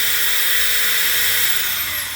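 Corded electric drill running steadily off a 5.12 kWh LiFePO4 portable power station, drawing about 260 watts; an even, close high-pitched motor whine that holds without pause and eases slightly at the end, with no talk.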